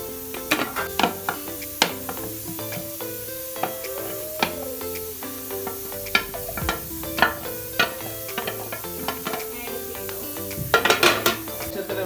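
Half-cooked boti (tripe) is stirred in a pan, with repeated utensil scrapes and clinks over a low sizzle and a burst of quick scraping near the end, close up and without speech.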